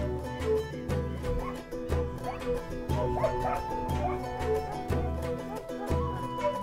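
Several dogs bark and yip excitedly while chasing an Andean mountain cat in the wild, fast repeated barks close by over a continuous backdrop, with no one speaking.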